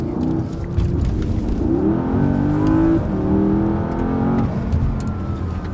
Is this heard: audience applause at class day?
no